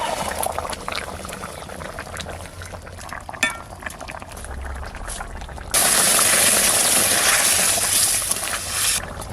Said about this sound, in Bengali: এবার ভাজা মাছগুলো দিয়ে দেবো